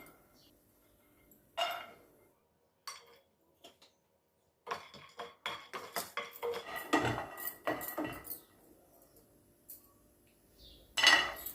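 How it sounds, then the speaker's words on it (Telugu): Peanuts dry-roasting in a kadai for a stuffed brinjal masala curry, with sparse clinks at first and then a busy run of dry rattling and scraping as a spoon tosses them against the metal pan. "పల్లీలు వేసుకొని వేయించుకోవాలి"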